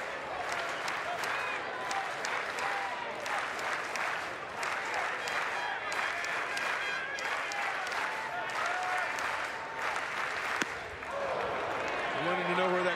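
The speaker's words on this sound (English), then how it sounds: "I wanted to know where that crowd was." A crowd at a college baseball game between Texas and TCU applauds and cheers in a continuous wash of clapping that swells and dips, with a commentator talking over it.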